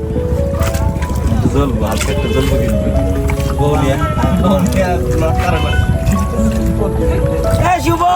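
A boat moves across the lake at Tanguar Haor wetland in Bangladesh, a steady rush of water and hull noise at close range, with people talking throughout.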